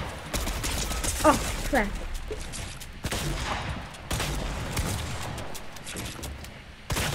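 Gunfire in Fortnite, with a fast burst of shots near the start and more scattered shots after, mixed with game effects and a player's brief exclamation.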